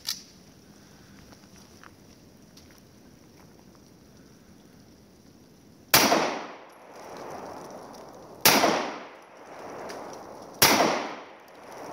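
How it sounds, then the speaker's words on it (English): Three sharp gunshots from a Sig Sauer P226 Mark 25 pistol fitted with a Romeo1 red-dot sight, fired at a range several seconds apart after a quiet stretch, each loud report trailing off into echo. "We're gonna see how accurately I can shoot with this gun and Romeo 1."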